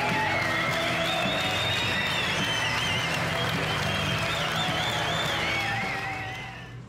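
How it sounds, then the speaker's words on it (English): An audience gives a long round of applause with cheering, dense clapping holding steady before fading out at the end. "I want a huge round of applause."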